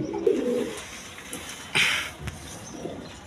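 Pigeons sold at a market coo in soft, low bursts, one near the start and another toward the end, with a sharp rustling flutter between them; no voices.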